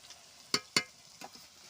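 Garlic and ginger tossed into hot oil while cooking chicken curry: a couple of sharp scraping clatters from stirring over a faint sizzle, then two softer knocks, close and quiet with no talk.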